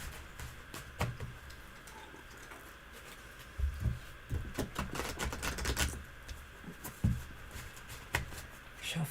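Tarot cards from a Halloween oracle deck being shuffled and cut, a run of soft, quick papery flicks and riffling taps that cluster into short bursts, close and fairly quiet with no talk over them.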